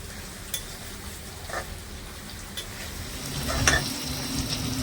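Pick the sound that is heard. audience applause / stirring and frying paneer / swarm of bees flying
stirring and frying paneer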